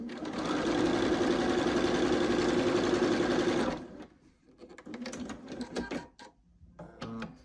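A sewing machine stitches quilt block seams on a nine-patch block, running in one fast, steady whir for nearly four seconds before stopping. Scattered clicks and handling noises follow.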